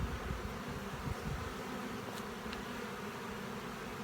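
Honey bees crowd a brood-filled hive frame, their dense, steady buzzing droning close and continuous with no break.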